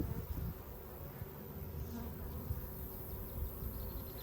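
Honeybees buzzing in an opened beehive, a steady, dense hum that stays even and fairly quiet throughout, with no talk.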